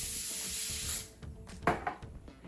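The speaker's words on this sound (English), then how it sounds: "what I'm going to do is I'm going to spray this" A steady hiss of spray from an aerosol can lasts about a second, followed by quieter handling clatter and rubbing sounds.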